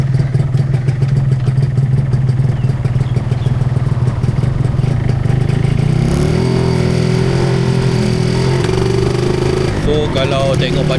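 A Yamaha 125ZR two-stroke motorcycle engine idles steadily while warming up, then revs higher as the bike pulls away and rides, its loud buzzing note rising and shifting close by.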